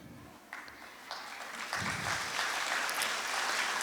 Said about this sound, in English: let's give them a big round of applause as performers take us on this artistic journey